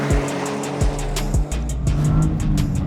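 A Toyota GR Corolla with its GR-Four all-wheel-drive system corners hard on a race track, engine revving and shifting through rising and falling tones as the tires squeal in a sustained, loud whine, with no talking.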